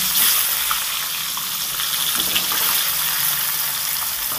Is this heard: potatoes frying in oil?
yes